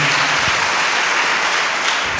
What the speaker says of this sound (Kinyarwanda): reka dukomere iyo Mana amashyi.